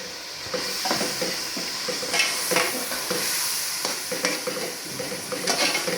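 Chickpeas fry in ghee with spices as a moderate sizzle runs under repeated scraping and stirring strokes of a spoon in the pot, with no voices.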